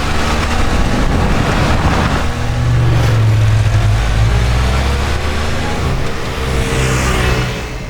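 A Can-Am Ryker three-wheeled motorcycle rides on a rally through Tennessee, its engine drone blending with heavy, constant wind rush and occasional rising revs.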